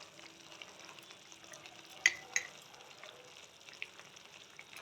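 Coriander leaf paste fries quietly in a pan, a soft, low sizzle with a couple of sharp utensil clicks near the middle and a faint tap later, close by and without voices.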